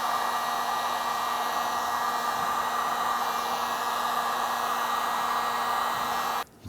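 A heat gun blows a steady, even whooshing hum while warming plastic tailgate molding on a 2005-2021 Nissan Frontier, continuous and close before cutting off abruptly at the end.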